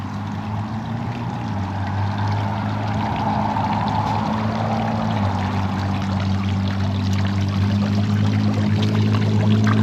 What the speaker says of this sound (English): I'm not sure if these water fountains are mineral water or not, but it is flowing